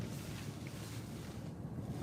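A strong gust of wind buffets a car during a storm chase, heard from inside as a steady, loud low rushing roar against the microphone with no voices.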